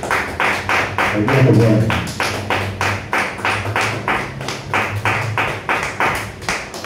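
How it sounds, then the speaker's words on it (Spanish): A church congregation claps rhythmically in a steady, even beat, loud and close, while a voice speaks over the clapping. "Den un buen aplauso al Señor, hermano."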